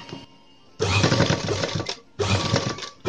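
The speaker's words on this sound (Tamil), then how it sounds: "இதை இப்படியே வச்சு ஒரு படி தையல்." A sewing machine stitches leftover chudi fabric in two fast, steady bursts of close mechanical whirring and needle clatter, separated by a brief pause.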